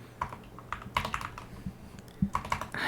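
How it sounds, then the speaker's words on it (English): Keys clack on a computer keyboard sitting close in front of a microphone, irregular taps in short clusters that are loud and near, with no talking. "I can't type because my mic is right in front of my keyboard."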